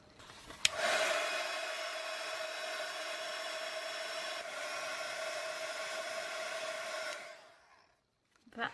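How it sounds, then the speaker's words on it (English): A heat tool blows hot air over an art journal page in one steady, close whooshing drone of about six seconds that starts abruptly and fades out at the end, with no talking. "So now I'm going to use my heat tool again, and let's see how this works out."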